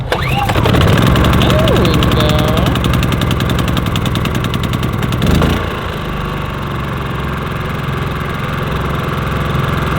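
Small engine on an RV setup starting after being fueled with gas, then settling into a steady loud idle nearby, with a slight drop in level about halfway through; no talking.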